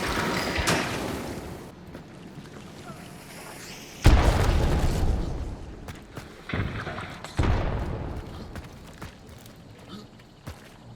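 Explosions in the video game Hunt: Showdown: heavy booming blasts go off in bursts, one loud deep detonation followed by another, with players talking between them.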